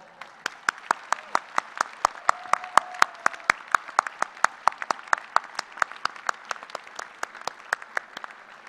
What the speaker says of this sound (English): join me in giving your loved ones a big and well-deserved round of applause